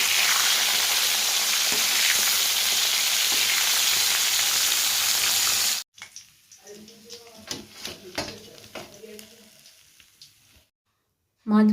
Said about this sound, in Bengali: এদিকে আমি কড়াই লিখিয়ে দিয়েছি মাছগুলো ভেজে নেবো